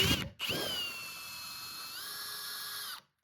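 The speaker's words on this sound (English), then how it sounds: "Now you just line up the bit before you want to drill and start slowly and then increase speed." A cordless drill drilling into thick steel whines steadily at high pitch, rising slightly in speed partway through, then stops; close and loud with no voices.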